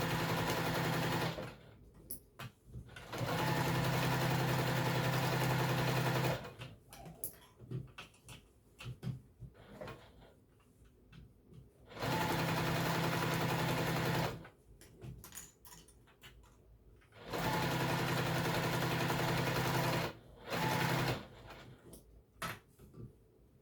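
A sewing machine stitches an apron in three long, steady runs, each a few seconds of loud continuous whirring, separated by quieter gaps of fabric handling, small clicks and rustling.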